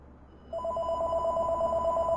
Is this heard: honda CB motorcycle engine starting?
no